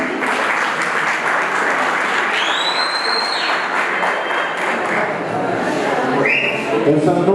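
Audience applause at a school debate, a dense continuous clatter of many hands mixed with crowd chatter and a few whistles or squeaks, loud and steady throughout.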